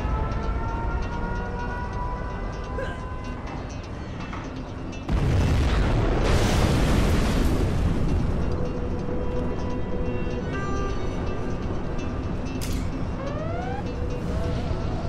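A nuclear missile launches and explodes in Command & Conquer: Generals Zero Hour, a sudden loud, rumbling blast that swells over steady mechanical game noise and then settles back into the continuing din.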